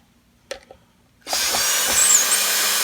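A power drill loosening screws on an Epiphone Special II electric guitar: a few light taps first, then the motor starts and whirs steadily, loud and close, with no voices.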